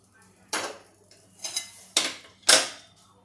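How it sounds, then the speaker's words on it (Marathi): A few sharp metallic clanks spaced apart, like a wok of sugar syrup being put down on a hard counter, each ringing briefly before fading. "पाकाची कढई मी तिकडे ठेवते"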